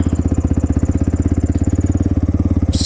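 A Honda XR650L dual-sport motorcycle's single-cylinder engine idles close by with a loud, steady, rapid thumping beat, and no one speaks.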